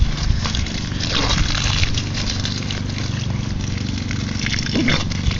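Chili, a dog, snapping and biting at a stream of water, with a continuous splashing spray and sloshing close by, broken by a few short bursts of splashing activity.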